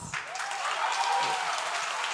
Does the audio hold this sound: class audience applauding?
yes